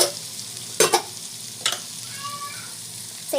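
Spices with turmeric sauté in hot oil in a pan, giving a steady low sizzle broken by a few sharp scraping stirs of the spoon, close and clear with no talking.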